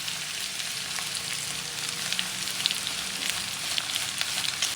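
Fresh alamang shrimp paste frying in a pan for Bicol Express, a dense, continuous crackling sizzle held close and steady with no voices over it.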